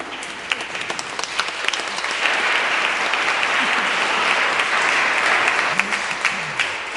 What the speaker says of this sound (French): On va les applaudir un peu.